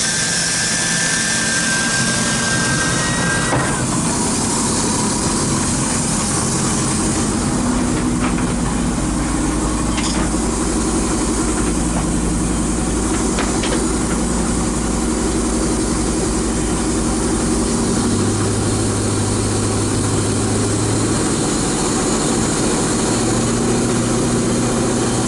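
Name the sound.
Volvo Penta marine engine running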